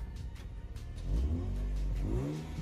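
Car engine revving up and holding a strong, steady roar while it inflates a giant balloon, loud and close with no talk over it.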